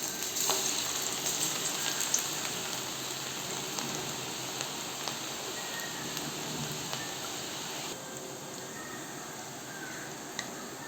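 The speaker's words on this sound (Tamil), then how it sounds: "இப்போ நம்ம எடுத்து வச்சுருக்கிற பக்கோடாவை இதில் ஆட் பண்ணிக்குவோம்." Onion pakoda frying in hot oil, a dense continuous crackle and hiss with small pops throughout, close and steady with no voices.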